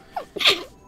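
A single sneeze close to the microphone, a quick sharp inhale followed by a bright explosive burst, alone in a quiet room.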